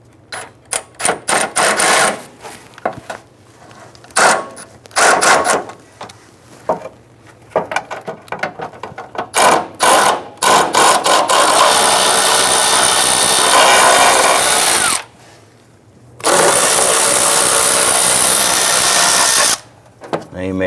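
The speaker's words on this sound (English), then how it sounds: "I'm going to go ahead and loosen and remove those." A power tool whirs in repeated short bursts, then longer runs, backing out rusted 7mm fender flare screws on a 1997-2006 Jeep Wrangler, loud and close with brief pauses between screws.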